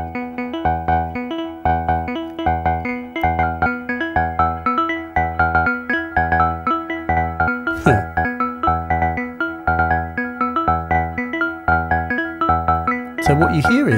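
A Moog Subharmonicon synthesizer runs two sequencer melodies together, a loud, evenly pulsing stream of repeating synth notes with a couple of brief noisy sweeps.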